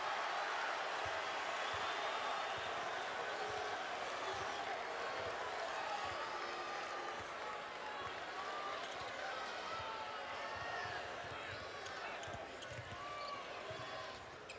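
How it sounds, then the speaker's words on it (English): A dense basketball arena crowd at a Tennessee versus Mississippi game roars steadily and swells, with ball bounces and sneaker noise underneath and a commentator talking over the din. "This crowd getting louder and louder by the second."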